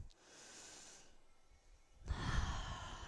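Slow breaths during a chair yoga session, a long soft exhale followed by a louder, fuller breath, close and alone without talk.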